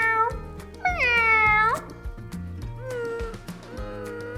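A person imitates a cat with several drawn-out, wavering meows, a long one early and shorter ones later, over soft background music.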